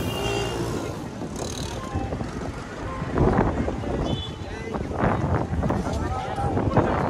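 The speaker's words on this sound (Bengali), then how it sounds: "অনেক বাতাস" Strong wind gusting across a beach at Cox's Bazar, roaring and buffeting steadily with louder surges, with voices faintly mixed into the rush.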